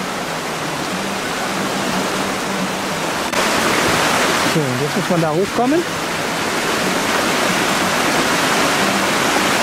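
Mountain stream rushing in the Lechtal Alps, a steady broadband wash of water close by throughout, with a person speaking briefly over it midway.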